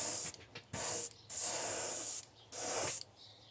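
An airbrush sprays a coat of pearly white paint onto a thin crankbait fishing lure in an old-school shad pattern, giving loud, close hissing bursts of varying length with brief pauses between them.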